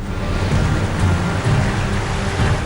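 Torrential monsoon downpour over Asansol and neighbouring Bankura, a dense, steady roar of heavy rain with a continuous loud rumble and hiss, no voices.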